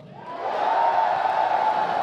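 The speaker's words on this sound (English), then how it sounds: "Cheer if you want to go into the tunnel" A large audience at BlizzCon cheers and whoops in one sustained roar that swells quickly and holds loud and dense throughout.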